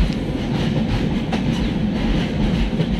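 A passenger train rolls past close by on a 90-degree curve at Gaya Junction station, India, a loud continuous rumble of wheels on rails with faint rhythmic clatter throughout.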